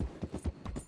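Horse hooves clip-clopping at a quick galloping rhythm in Red Dead Redemption 2, several evenly spaced thuds in under a second, moderately close with no talking.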